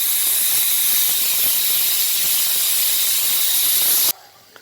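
A pressure cooker of tomato rice vents a loud, steady rush of hissing steam for about four seconds, then it cuts off abruptly into near quiet.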